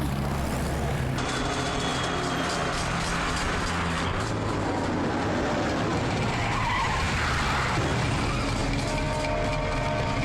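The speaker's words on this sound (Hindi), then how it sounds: "कोई गाड़ी हमारा पीछा कर रही है शायद" A car chase with tires skidding loudly, engines roaring and screeching rubber building and shifting over several seconds in a dense, continuous burst of vehicle noise with no speech.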